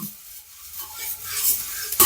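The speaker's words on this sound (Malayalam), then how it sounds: "നനവ് പോക്കാൻ വേണ്ടിട്ടാണ് ചട്ടിയിൽ വറുക്കുന്നത് ഓക്കെ ഓക്കെ മൺപാത്രത്തിൽ തന്നെ വറുക്കാം" Rice flakes (aval) roast in a clay pot while being stirred, giving a soft dry rustling and scraping that grows gradually louder, with a sharper scrape at the end and no speech.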